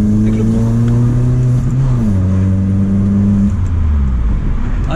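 A Peugeot 207 engine revs hard at night in central Paris, a loud, droning engine note close to the microphone that holds high and then slides down in pitch, with no talking.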